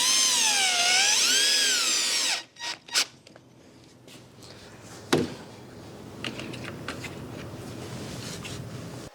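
A drill drives a screw into pressure treated wood for a hay rack, a high whirring run that stops abruptly, followed by a few clicks and taps close by, no talk.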